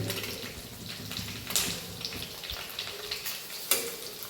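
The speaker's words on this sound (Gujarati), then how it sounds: "હવે ડુંગળીને વ્યવસ્થિત ફ્રાય કરીશું આપણે." Onions hiss and crackle in a pan as they fry, a loud, close, continuous sizzle broken by a few sharper bursts and stirring scrapes, with no talk.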